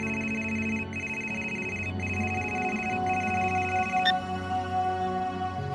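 A telephone rings repeatedly in the Gray Matter adventure game, a steady electronic bell pattern of evenly spaced bursts, loud and close with no talk over it.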